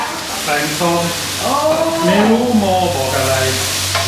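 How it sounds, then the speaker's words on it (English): Vegetables hit a hot pan for an Asian-style stuffed egg dish, sizzling steadily while they are stirred and scraped around. Voices chatter over the frying. "in goes the vegetables"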